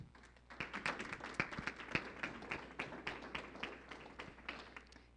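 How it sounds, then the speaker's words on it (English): Audience applause for a speaker at a community coffee morning, a light scattering of claps from a modest crowd, fairly faint and steady throughout. "how about a big round of applause for Miss Tana Campbell?"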